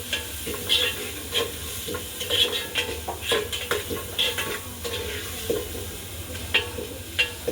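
Ginger-garlic paste stirred through frying tomatoes and onions: a continuous sizzle with repeated scraping and clinking strokes of a spoon against the pan, close and fairly loud.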